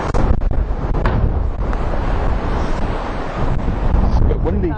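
Strong wind buffets the microphone on a Stewart Island bush trail, a loud, continuous rumbling roar with gusty swells throughout, and a voice speaks briefly over it.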